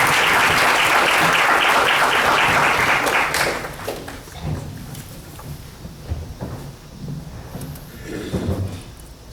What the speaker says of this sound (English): Give a hand to Dr. Goto.